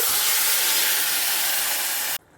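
Gongura greens are dropped into a hot pan of fried onions and set off a loud, steady, close hiss of sizzling that runs for about two seconds, then cuts off abruptly to quiet.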